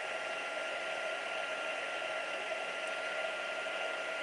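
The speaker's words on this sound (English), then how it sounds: "These heat tools are pretty hot, so do be careful." A steady, continuous whooshing roar of an embossing heat tool blowing hot air, constant in level throughout with no pauses.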